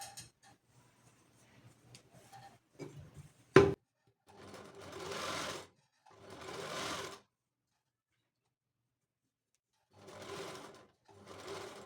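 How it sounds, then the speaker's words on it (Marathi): Sewing machine stitching a blouse cup, running in three short bursts of whirring stitches separated by pauses, with a sharp knock or clunk just before the first run and quieter handling noises earlier. "अजून एक एक टीप टाकून घेऊयात आपण"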